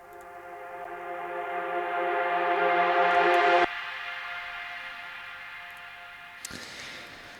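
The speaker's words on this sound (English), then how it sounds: "did like your typical reverse reverb" A reverse reverb tail on a synth lead in an Afro-melodic house track swells steadily louder for several seconds and cuts off abruptly, leaving a quieter sustained tone and then a faint second swell near the end.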